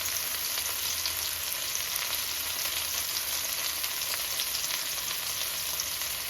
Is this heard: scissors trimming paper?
no